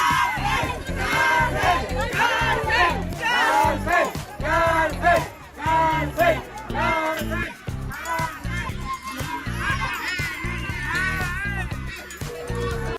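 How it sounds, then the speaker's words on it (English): Large crowd at a Mexican pyramid booing and shouting at a tourist, a loud continuous wall of jeering voices with shifting swells over the full stretch. "when she finally got down, was booed by an entire crowd"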